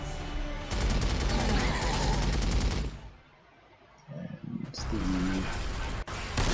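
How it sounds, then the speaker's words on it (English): Artillery fire in the strategy video game Warhammer 40,000: Sanctus Reach, a loud rapid barrage of booming blasts that drops into a quiet lull before more heavy bursts return. "Ooh, artillery."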